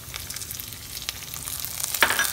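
Vegetables fry in a pan for a vegetable pulao, giving a soft steady sizzle with a brief louder crackle near the end, close by and without talk.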